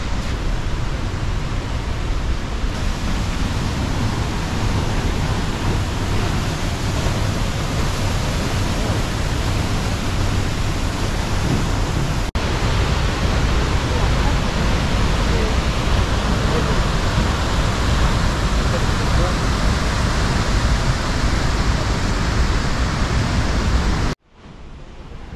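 Small waterfall in Costa Rica pouring steadily: a continuous, loud broadband rush of falling water with no breaks, close by and unchanging, cutting off abruptly at the very end.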